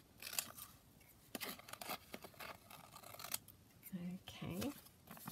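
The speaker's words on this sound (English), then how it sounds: "I'm going to cut that side down like that." Scissors snipping paper while trimming envelope pockets, a series of quiet close cuts and rustles, with a person talking briefly in between.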